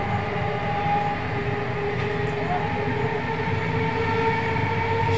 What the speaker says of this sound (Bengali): শিয়ালদা টু বনগাঁ লোকাল যাচ্ছে